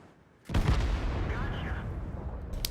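A T110E5 tank cannon fires in a video game on the El Halluf map, one heavy booming shot with a long rumbling tail.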